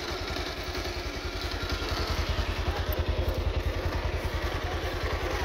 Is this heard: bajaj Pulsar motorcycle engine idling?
yes